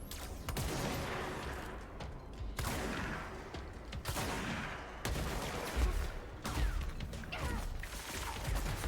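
Sustained gunfire in the video game Control, with repeated bursts of shots and crashing impacts running steadily for several seconds at a loud, even level, and no talking.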